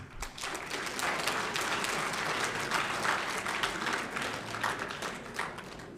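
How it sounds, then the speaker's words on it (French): Crowd applause at an official ceremony in Senegal, a steady wash of many hands clapping that is fairly faint and sustained, fading slightly toward the end. "Applaudissez."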